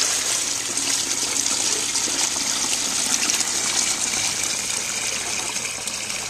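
Melted beeswax is poured through a coarse household strainer, a steady, close rush of liquid flow with a splashy hiss that runs on for several seconds without talk.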